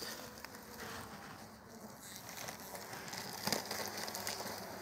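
Honeybees buzzing at an opened hive during beekeeping work, a dense, steady hum of many insects close by with faint handling noises, and no voices.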